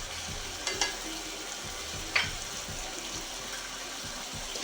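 A spoon stirs garam masala through spicy chicken in a pan, with soft scraping and a low sizzle, plus a couple of sharp clinks against the pan.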